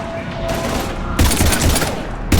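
Heavy gunfire during the Mass Effect 3 prologue: a low rumble of distant battle gives way to loud, close bursts of rapid shots near the end.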